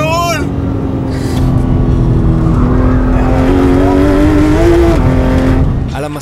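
A Porsche GT3 RS on a race track revs hard with a loud, rising engine howl and gear changes, close and sustained, with a voice talking over it.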